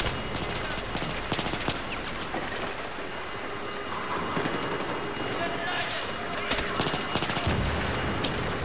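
Rapid bursts of gunfire in Battlefield 3, sharp repeated cracks scattered across a noisy combat backdrop, loud and close, with a person talking over the shooting.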